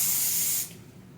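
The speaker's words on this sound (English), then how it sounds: "I'm gonna spray another layer." Hair adhesive sprays from a can in one sharp, close hiss lasting about half a second for a wig install, then cuts off and leaves a quieter room.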